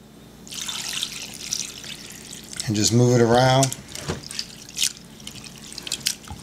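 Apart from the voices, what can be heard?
rinsing Irish sea moss in spring water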